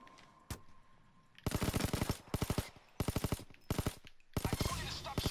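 Gunfire in the heist game Payday 2: an isolated shot, then several loud bursts of rapid automatic fire separated by short pauses, close and punchy.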